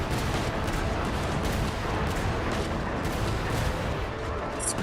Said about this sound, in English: this is a good cannon.